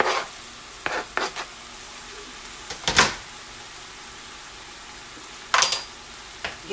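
Zucchini and tomatoes cook in a pan over turned-down heat, a soft steady sizzle broken by several brief stirring scrapes and clatters.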